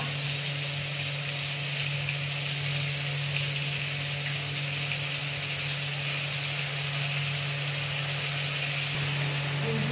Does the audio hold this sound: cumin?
yes